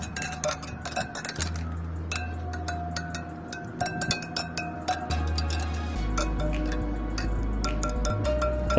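A spinning bicycle wheel on a CSC RX3 motorcycle ticks steadily as its spokes are tapped in rhythm, bright clinks and chimes over a low hum, close and moderately loud.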